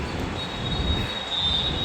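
Metro train at a station platform, a steady broadband rumble with a sustained high-pitched wheel or brake whine running through, loud and continuous with no talk.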